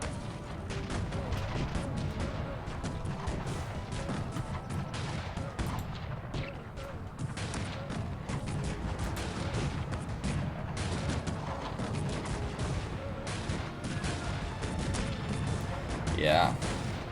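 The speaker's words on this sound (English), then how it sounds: "Most of them just being blasted to bits by multi-barrel cannons" Cannon and multi-barrel cannon fire in the Cossacks 3 battle game, a dense continuous barrage of booms and crackling shots with commentary voices running over it throughout.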